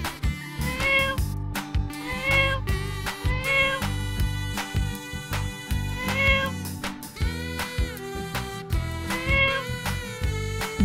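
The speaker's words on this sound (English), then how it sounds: "C for cat." A cat meows several times in a row, loud and close, over a steady musical backing.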